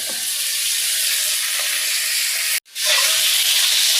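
Fish spiced with masala sizzles in a frying pan, a steady close broadband crackle that cuts out abruptly for a moment near the end, then resumes just as loud.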